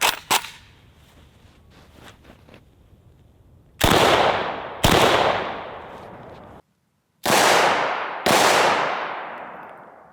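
Several loud, sharp AK-47 rifle shots, 7.62x39, fired into body armor on a torso target. They come as four or five close, powerful cracks, each trailing off in a short echo, after a stretch of quieter handling noise.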